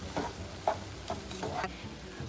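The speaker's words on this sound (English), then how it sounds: "And we'll mix this all up." Lasagna filling being mixed together in a bowl with seasonings, salt and pepper, giving soft, faint scraping and stirring strokes at an irregular pace, with no talking.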